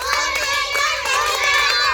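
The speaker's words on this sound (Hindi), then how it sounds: "जोर जोर से ताली बजाओ।" Children clapping loudly during a morning school assembly, with sharp repeated hand claps mixed into a dense crowd of excited young voices shouting and chanting.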